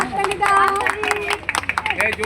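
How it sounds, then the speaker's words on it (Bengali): A crowd clapping at a health check-up camp and school supplies distribution event: scattered handclaps that thicken toward the end, mixed with loud nearby voices and general crowd chatter. "হাততালি দাও"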